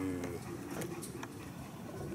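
Racing pigeons cooing in a loft, with repeated soft throaty coos close by over a low background murmur; no clear talk.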